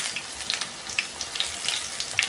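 Plain unseasoned tempeh frying in hot oil, giving a steady crackling sizzle with scattered sharp pops throughout, fairly close and with no talking.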